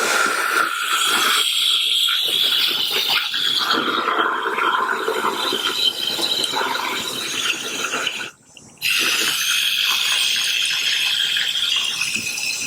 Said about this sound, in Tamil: நண்டு நல்லா ரின்ஸ் பண்ணிடுவோம் நம்ம.